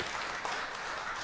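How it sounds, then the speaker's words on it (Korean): A church congregation at a Korean Sunday afternoon service claps in welcome for a visiting pastor and his wife, a steady, even wash of applause heard from a distance and fairly quiet throughout. "한번 우리 환영의 박수 한번 뜨겁게 한번 부탁드리겠습니다"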